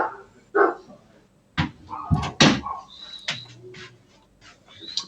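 A protective dog barks at people passing by the back gate, giving a few sharp, fairly close barks in short bursts separated by pauses, with some light knocking and rustling between them.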